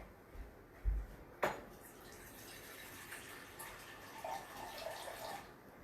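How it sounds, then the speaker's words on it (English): Water runs quietly from a tap into a container in a home kitchen, a soft continuous trickle and splash after a couple of knocks and a sharp clatter near the start, with no voices. "I'm going to fill up the water."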